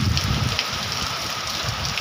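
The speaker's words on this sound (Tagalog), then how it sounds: "Ito ulan" Heavy typhoon rain pours down in a steady, close hiss of drops on surfaces, with a low rumbling undertone and no pauses across the brief stretch.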